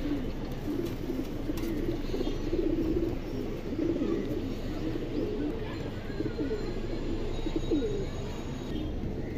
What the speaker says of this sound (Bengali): এই যে কবুতরগুলো দেখেন দর্শক মাশাআল্লাহ দেখেন